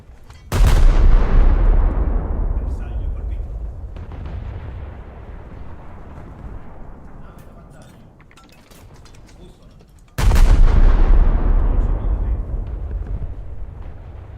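Two heavy tank cannon shots in War Thunder, each a loud close boom with a long rumbling decay, spaced about ten seconds apart.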